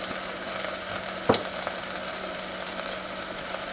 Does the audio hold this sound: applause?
no